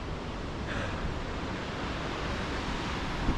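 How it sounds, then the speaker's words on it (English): A Himalayan waterfall near Langtang gives a steady, broad rushing roar that holds evenly throughout, with no one speaking. "Ah, look at that waterfall over there."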